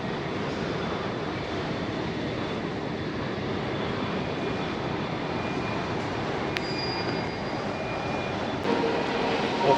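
Airplane engines at Suvarnabhumi Airport in Thailand make a continuous broad roar that holds steady and loud for the whole stretch, swelling slightly at the very end, with no speech over it.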